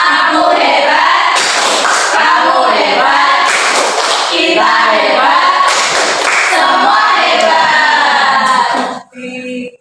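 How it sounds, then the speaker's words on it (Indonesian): A primary school class gives a loud, energetic 'tepuk hebat' clapping cheer, with rhythmic group clapping mixed with chanted voices filling the room, then the sound ends abruptly. "kita beri tepuk hebat"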